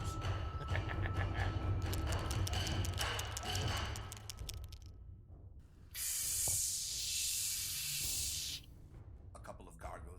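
Aerosol spray paint can hissing in a steady burst of several seconds while graffiti is sprayed on large statues, following a stretch of busier noise and speech-like sound.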